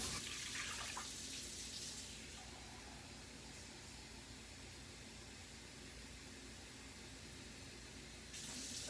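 Kitchen tap water running steadily to fill cups for a pickling brine, a continuous broadband hiss that is louder at the start and end and quieter in the middle, with no talk.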